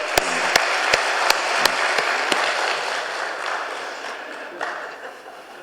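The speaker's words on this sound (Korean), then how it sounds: "우리 박수 한번 격려해 주시기 바랍니다" A church congregation at a Korean Sunday service claps in encouragement for its fasting members. A few sharp, distinct claps ring out near the start over a broad, moderately loud wash of applause that gradually thins and fades.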